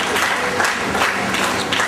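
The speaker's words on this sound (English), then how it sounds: "I'm sure we can do better than that in applauding our young debaters all the way from Lucknow." An audience at an inter-school debate meet applauds young debaters from Lucknow: dense, continuous clapping from a crowd, loud and sustained across the whole moment, with faint voices mixed in.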